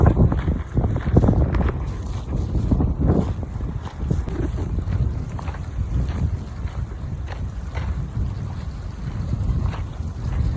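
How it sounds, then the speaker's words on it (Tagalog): Wind buffets the microphone over a steady wash of sea waves on a Saudi Arabian shore, a rough continuous rumble with irregular gusts and no talking. "Masarap pakinggan yung sounds ng mga alon saka yung hangin"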